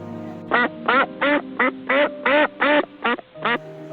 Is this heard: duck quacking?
yes